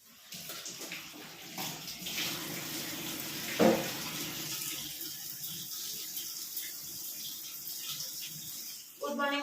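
Water poured over a potted plant to rinse dust off its leaves, a steady close running-water wash lasting throughout with a brief louder splash partway.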